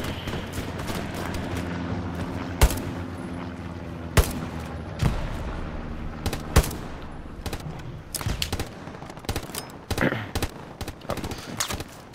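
Enemy rifle and machine-gun fire crackles in Hell Let Loose, with sharp distinct gunshots punctuating a steady background of distant battle noise, shots coming irregularly and growing more frequent toward the end.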